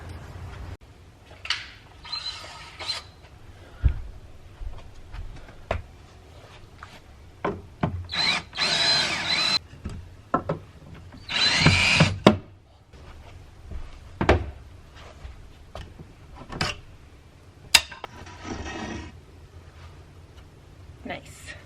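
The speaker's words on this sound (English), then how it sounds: "is unscrewing these little screws that we put on this little support" A power drill backs small screws out of a wooden support inside a Sprinter van conversion's window framing, in short loud whirring bursts separated by pauses, with wood knocks and handling noises between them.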